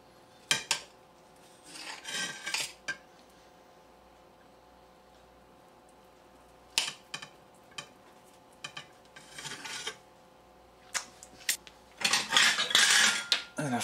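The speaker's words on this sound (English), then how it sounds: "Let's cut two slices." A knife works through canned luncheon meat in short bursts of scraping and tapping against a hard surface or plate, separated by quiet pauses, ending in a louder stretch of cutting and clatter; no talking.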